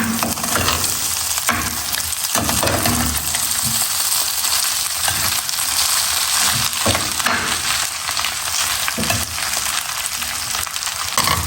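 Rice fries and is stirred in a pan with a loud, continuous sizzle, broken by scraping and tossing sounds from the stirring, close by and with no voices.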